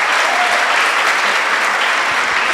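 An audience at a coffee processing talk gives loud, dense applause, a continuous wash of many hands clapping at full strength throughout.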